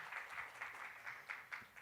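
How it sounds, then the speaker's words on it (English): Audience applause at an event announcing a brand ambassador for a breast cancer awareness campaign: moderate, steady clapping from a crowd heard at a distance, with a few sharper claps standing out. "I think we can clap aloud"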